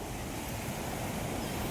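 Water churning in full waves at Dotiwada dam, a steady broadband rush of surf with wind noise on the microphone, loud and continuous throughout.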